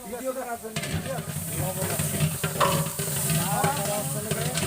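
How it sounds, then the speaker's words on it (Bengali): A spice paste hisses and sizzles steadily as it is stir-fried in a large pot for a meat curry at a wedding feast, where 35 kg of meat is being cooked; people talk over the constant, close frying. "এখন মশলাটা কষাচ্ছেন নাকি"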